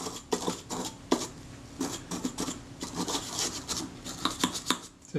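Short, repeated rubbing and scrubbing strokes sound close up as the body of a Kodak Retina II camera is cleaned, each brisk stroke arriving in an uneven rhythm.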